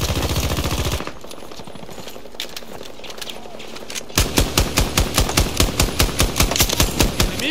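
Battlefield 2042 gunfire comes as a loud rapid automatic burst, then a quieter stretch of distant shots, then another sustained loud burst of evenly spaced rounds.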